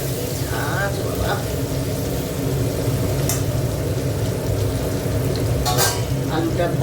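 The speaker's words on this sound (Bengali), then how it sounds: "আলুটা ভাজা হোক।" Potatoes fry in pungent mustard oil with salt and turmeric. A continuous crackling sizzle runs over a low steady hum, and faint stirring noises drift in and out.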